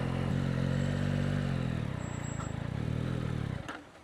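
A motorcycle engine idles and runs with a steady low throb, close and fairly loud, by a rider on a bike in California who keeps stalling it, before the engine note cuts out near the end.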